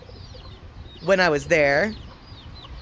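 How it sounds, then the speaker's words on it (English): Chickens in a park cluck in a short burst, with a faint bird call in the background, while a person speaks over part of it. "And the park has a bunch of chickens."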